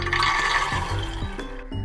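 Water pours into a pressure cooker holding black chickpeas, a short splashing gush with a few metallic clinks against the pot, close by.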